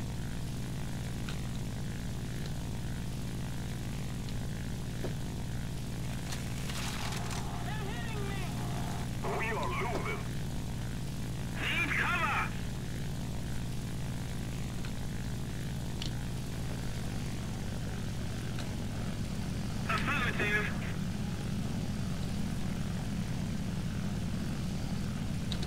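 Propeller aircraft engine drone in the War Thunder video game, a steady low hum running through the whole stretch with brief higher bursts of gunfire or effects, under talk.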